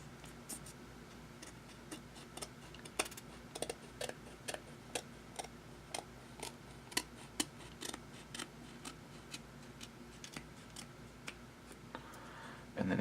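Scissors snip a thin strip of paper in a quiet room, a steady run of small crisp cuts repeating about once a second, close and soft.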